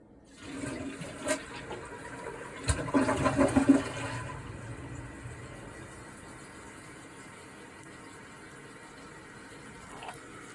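A toilet flushes during a late-night emergency repair on Long Island, opening with a loud gurgling rush of water that fades into a steady, quieter refill hiss, with no talk.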